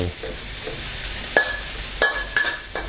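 Dried shrimp being stir-fried in a pan for a Thai egg and gourd stir-fry, with a steady low sizzle broken by several sharp scraping strokes of a spatula against the pan.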